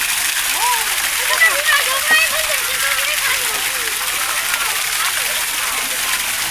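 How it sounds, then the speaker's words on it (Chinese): Automatic water spray at a water park hisses steadily as a broad wash of splashing water, with people talking and calling out over it throughout. "自动喷水的"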